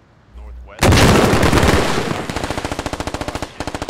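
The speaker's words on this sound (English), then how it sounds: "Somebody else took a shot at him." Heavy automatic gunfire in the military shooter game Squad, a loud sustained burst that breaks into a rapid rhythmic string of shots, close and dominant with no talk over it.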